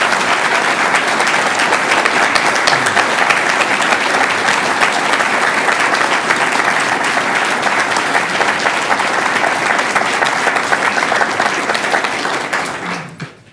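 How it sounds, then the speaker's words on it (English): Sustained, loud studio audience applause at a televised Illinois gubernatorial debate, dense clapping filling the room for about twelve seconds before quickly tapering off. "Let's give a big round of applause to both of our candidates."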